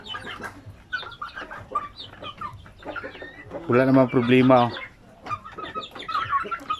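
Native chickens cluck and call around a feeding spot, a loud burst of calls rising midway, with someone talking throughout.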